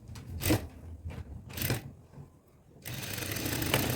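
A sewing machine stitches chudidar pants in short bursts, several quick rattling runs separated by pauses, then a longer steady whir of stitching toward the end.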